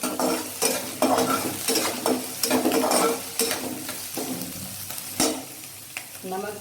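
Onions with chillies tipped into hot oil for a chaulai greens dish, crackling and sizzling close by while a spoon scrapes and stirs the pan in repeated bursts.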